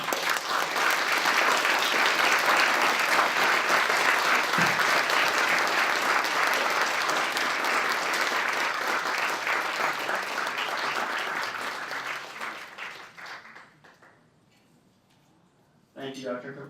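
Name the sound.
audience applause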